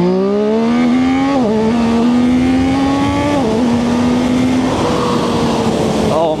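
A ZONTES 703RR motorcycle accelerates hard while doing power wheelies in first and second gear. The loud engine climbs in pitch, dips briefly at each gear change, then pulls up again.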